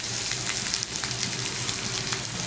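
Potatoes fry in hot oil with black cumin for a Bengali tangra fish curry, a steady close sizzle with light bubbling crackle throughout, no speech.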